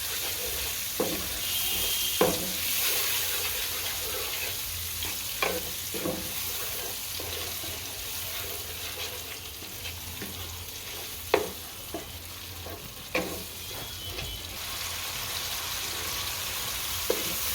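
Onion paste fries in a pan with a steady, bright sizzle that runs the whole time, broken by occasional knocks and scrapes from a spoon stirring it, with no one talking.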